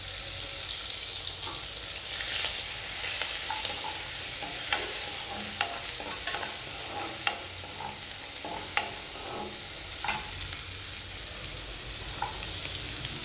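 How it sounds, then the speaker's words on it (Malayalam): Chopped ginger, green chili and garlic frying in hot oil in a home kitchen, a continuous close sizzle broken by occasional sharp pops and clicks of stirring, with no speech. "ഇഞ്ചി കിടന്ന് തിളയ്ക്കുന്നു"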